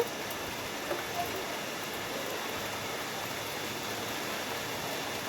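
Rain pours down onto open water during a sunny shower, a steady, even hiss of dense drops with no single splash standing out, moderately loud and continuous throughout.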